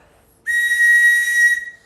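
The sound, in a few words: loud safety whistle from a phone case being blown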